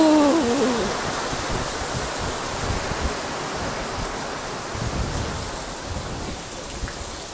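Steady rain falls outside, a dense, even hiss that is fairly loud and close, with a brief tonal sound at the very start and no voices.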